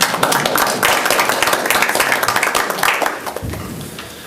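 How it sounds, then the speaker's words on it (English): Dense clapping from a crowd at a Board of Health meeting after an oath of office, steady for about three seconds before thinning out and fading at the end. "It's worth a round of applause"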